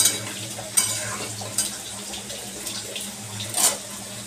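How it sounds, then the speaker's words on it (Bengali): Fried lentil dumplings being stirred into cooked vegetables in a pan, a steady soft sizzle with a few scraping stirs and clinks of a spoon, close and moderately loud, no talking. "এবার ভেজে রাখা বড়িটা দিয়ে দেবো।"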